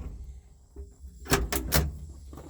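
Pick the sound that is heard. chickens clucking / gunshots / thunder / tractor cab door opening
tractor cab door opening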